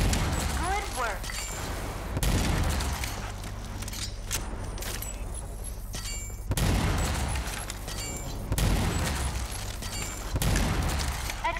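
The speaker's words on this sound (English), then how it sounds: "Hold LT and tap RT to fire a charged shot." Hyper cannon charged shots firing in the RAGE 2 video game, heavy booming blasts repeating roughly every few seconds over a steady rumbling bed of game ambience.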